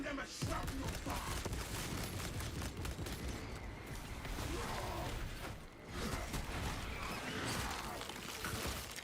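Shrapnel weapon fire in Space Marine 2, a rapid barrage of blasts and crashing impacts that runs for several seconds at steady loudness amid chaotic battle noise, with one brief dip partway through.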